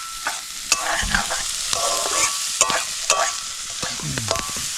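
Fish frying in a pan at an outdoor camp, a steady sizzle with scraping stir strokes and clattering utensil hits throughout, close and fairly loud.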